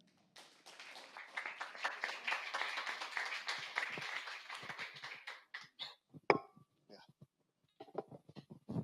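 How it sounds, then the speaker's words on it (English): Audience at a fintech pitch event applauding a speaker, dense clapping for several seconds that thins out and fades to a few scattered claps. "Some applause for André."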